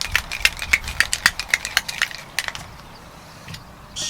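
A Flamingo Cocktail of lime juice and grenadine is shaken hard in a cocktail shaker, giving a quick, even rattle of about four sharp bursts per second that stops after a couple of seconds, close and loud.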